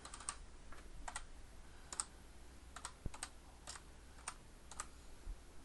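Quiet keyboard typing on a computer while entering a search into the Chrome browser, a sparse run of soft, separate key clicks spaced across several seconds, heard alone without any talk.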